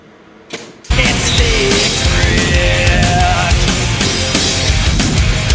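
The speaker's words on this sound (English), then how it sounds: "Now, next thing we gotta do is see if it welds." An electric welder strikes an arc and welds continuously with a loud, steady crackling buzz after a brief quiet start, freshly hooked up to a new welding plug.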